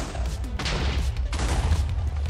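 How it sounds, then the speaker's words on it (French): A house blown apart in Minecraft Hardcore, heard as a loud, continuous rumbling blast of crashing and booming debris that carries on without a break. "Oh, nickel, explosion parfaite"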